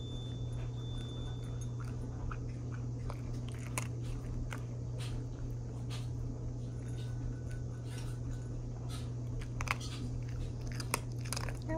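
Soft, moist chewing of tofu heard up close, with irregular small bites and squishes repeating over several seconds against a low steady hum, with no talking.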